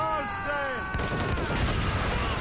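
Naval cannon fire booms in a sea battle in the game Assassin's Creed Rogue, a heavy blast landing about a second in amid a rumbling roar, with a shouted voice and ringing tones just before it.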